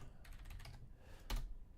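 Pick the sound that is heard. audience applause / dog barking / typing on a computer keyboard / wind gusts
typing on a computer keyboard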